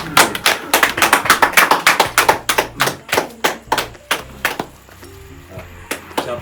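Applause at a 60th wedding anniversary celebration: a quick run of sharp, close hand claps that gradually thins into slower, scattered claps, with a faint hum and murmur of people underneath.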